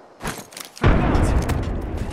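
A frag grenade detonates in the video game Apex Legends, a sudden heavy boom that swells into a broad, rumbling roar and lingers for over a second after some quieter game noise.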